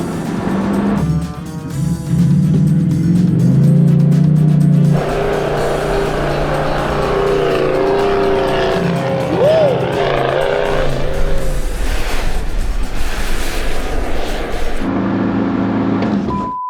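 A 2.8 litre car is driven hard uphill with traction control intervening, its engine loud and close, rising and falling through revs with tire noise and shifting pitch.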